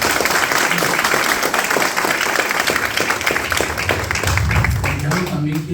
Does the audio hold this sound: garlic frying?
no